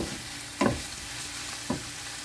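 Chayote (sayote) stir-fried in a pan for a ground pork and vegetable dish, with two brief scraping stirs of the spatula over a faint, steady background sizzle.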